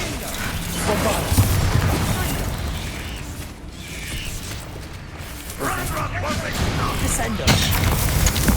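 Bombarda spell explosions in a Harry Potter video game, dense mechanical bursts and rumbling booms rolling on continuously at close range with a busy clattering game mix.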